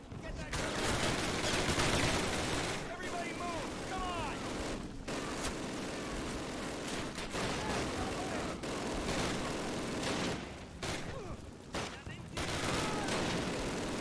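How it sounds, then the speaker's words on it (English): Dense gunfire from the 2003 Call of Duty game during an airborne D-Day drop, with rapid bursts and machine-gun volleys that continue loudly and almost without a break for the whole stretch, and brief dips around explosions. "I'm getting shot from so many angles."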